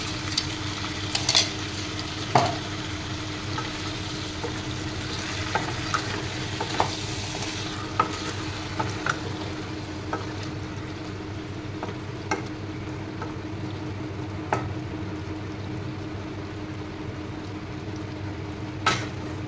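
A soft, steady sizzle of spice paste frying in a pan for a chicken curry, punctuated by occasional scraping and tapping from stirring, with no talking.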